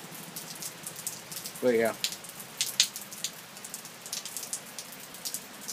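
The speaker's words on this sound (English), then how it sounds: "sitting out here on the back porch, listening to the rain" Rain falls on a back porch as a soft, steady patter of scattered drops, close and quiet, while someone briefly says a few words.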